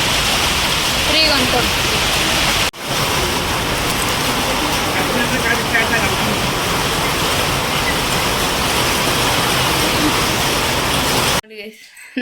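Heavy rain pours in a dense, loud roar throughout, briefly interrupted once and cutting out near the end, with a person speaking a few words under it.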